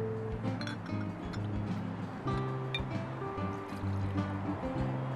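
Lemon juice poured into a cocktail glass, a soft steady trickle of liquid under low background hum with faint clinks, close and quiet.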